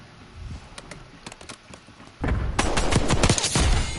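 Semi-automatic gunfire in Black Ops 6 sounds as a string of distinct single shots. Sparse cracks come first, then a denser, louder burst of rapid reports over a constant game background.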